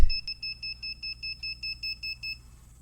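A radar-based police alert device sounds a rapid run of about a dozen short, even electronic beeps, close and clear, stopping after roughly two seconds.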